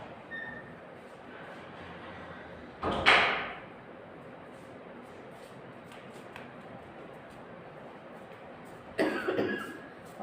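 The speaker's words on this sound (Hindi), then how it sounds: "और मेरी खांसी हो रही है" Two short bursts of coughing from an ill woman, one early and one near the end, over a quiet, steady background hum.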